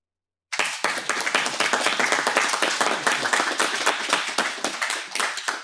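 A small crowd of about eight people claps at a Trump press conference. The applause starts abruptly and continues as steady, close, thin clapping with no voices.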